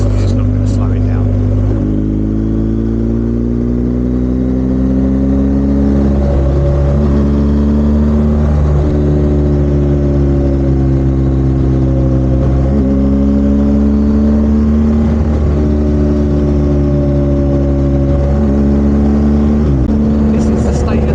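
A BMW GS motorcycle engine drones steadily while riding on steep hills, engine braking in third gear, with the pitch stepping up and down through gear changes under wind rumble.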